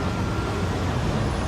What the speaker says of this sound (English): So the city bus is going.